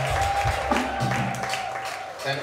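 Church concert crowd in Ghana claps and cheers in a steady, broad wash of applause with shouts, loud and close throughout.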